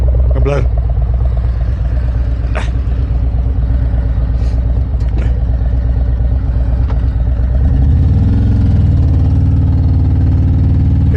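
A motorcycle fitted with a new Cihui aftermarket exhaust idles close by with a deep, steady, throbbing burble, joined near the end by a slight rise in revs.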